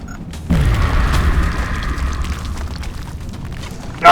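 A grenade goes off in a first-person shooter game, a deep booming blast that hits abruptly and rumbles on for several seconds, followed by a fresh loud burst at the very end.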